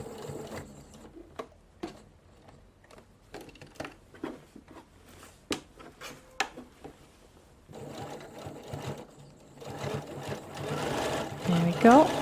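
A mechanical sewing machine stitching a skirt hem whirs in quick, rhythmic runs, first in short separated bursts, then a longer continuous stretch, close by and alongside a speaking voice.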